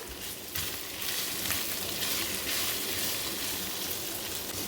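Chicken with capsicum and carrot fries in a pan, giving a dense, steady sizzle with faint stirring that stays loud and close throughout.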